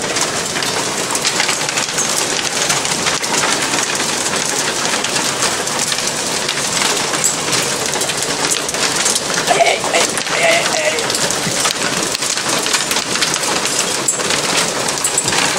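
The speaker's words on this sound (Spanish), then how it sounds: "Es la primera vez que cae granizo desde que llegué." Heavy hail falling outdoors, a dense continuous clattering roar that stays loud and steady throughout, with a voice speaking faintly underneath.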